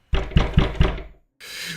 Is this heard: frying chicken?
no